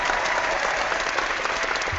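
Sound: brief applause from audience

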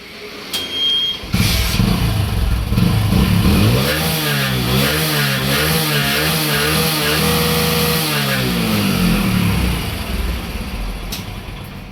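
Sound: Hero Splendor Plus motorcycle engine starting and running

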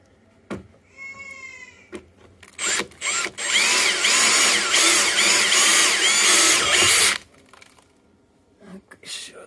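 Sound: power drill drilling holes in trimaran floats

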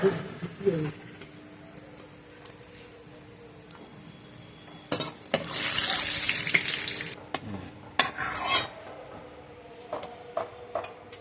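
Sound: onions frying in oil until reddish for beresta

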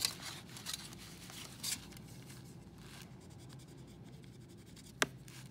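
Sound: Sharpie marker drawing on metal

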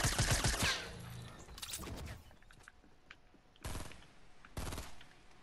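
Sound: gunshots from the video game Fortnite Battle Royale

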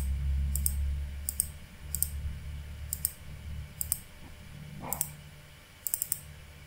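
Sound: computer mouse clicks while selecting objects in Vectorworks

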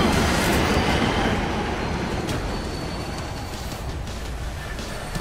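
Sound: train passing in video game World War Z

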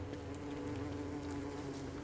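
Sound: bees buzzing in a bee biome, from the video game Don't Starve

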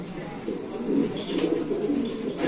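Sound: Mundian pigeon cooing

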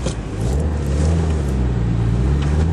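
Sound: Nissan 180SX turbo engine with aftermarket air cleaner

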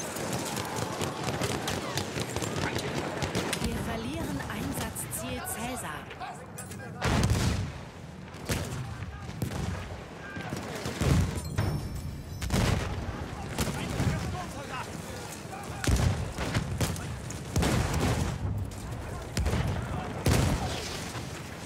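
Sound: explosions and gunfire in the video game Battlefield 1

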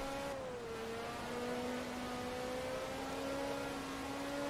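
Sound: Ferrari engine in Forza Motorsport 2 video game

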